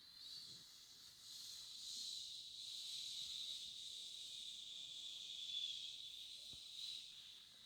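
A voice imitates whistling wind with a steady, breathy hiss that swells slightly and holds for several seconds, sounding alone without any speech.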